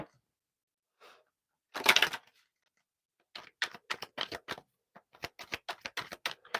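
Tarot cards being shuffled during a live reading give a faint scattered riffle, then a run of quick crisp clicking bursts in uneven rhythm.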